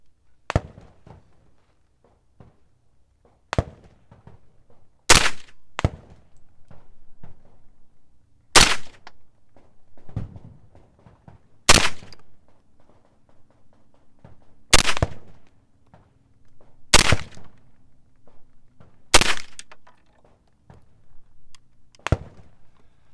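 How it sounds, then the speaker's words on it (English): Sharp shots from a simple blowback rifle fired at a 20-meter target outdoors, about ten loud cracks spaced a few seconds apart, each ringing briefly, with quiet gaps and no talk between them. "I'm going to continue to shoot at that 20 meter target."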